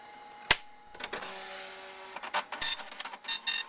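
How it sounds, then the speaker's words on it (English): An Epson LQ-500 dot matrix printer prints its test page of DIP switch settings in high quality mode: a sharp click, a motor whine, then bursts of rasping print-head buzzing in uneven rhythm, close and loud. "it'll immediately start printing out your dip switch settings in high quality mode"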